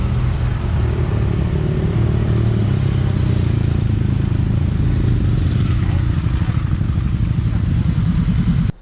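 A motorcycle rides a mountain road on the Northern Cross-Island Highway near Lalashan, Taiwan, its engine rumbling steadily and loudly close by throughout, with wind noise and no talking.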